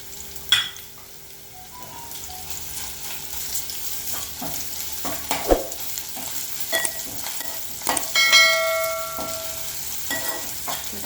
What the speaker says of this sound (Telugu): వాసన అయ్యే వరకు మంచిగా ఇట్లా ఫ్రై చేసుకోవాలి.